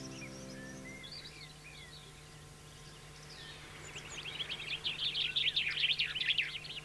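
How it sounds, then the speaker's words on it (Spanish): Birds sing in the laurel forest of Garajonay on La Gomera, with scattered chirps and whistles at first that build into a dense, lively burst of song toward the end, over a low steady hum. "Las aves no faltan, lógicamente, en un bosque como Garajonay."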